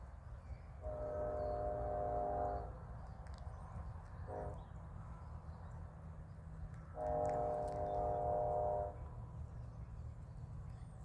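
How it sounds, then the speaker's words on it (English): A BNSF empty coal train led by four SD70ACe locomotives sounds its horn on the Brookfield Subdivision in Missouri: two long blasts and a brief one between them, faint and distant over a low rumble. "I hear a horn."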